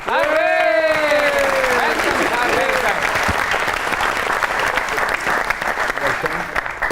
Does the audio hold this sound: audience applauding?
yes